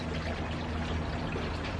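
Water pouring steadily over newly potted aeonium succulents in a potting tray, a continuous, fairly loud splashing wash with no breaks.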